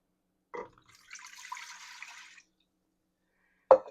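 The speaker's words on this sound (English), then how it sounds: "we just go ahead and add the 2 cups of water." A short stream of water pours into a pot for about a second, with a couple of clunks before and after in an otherwise quiet room.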